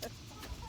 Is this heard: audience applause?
no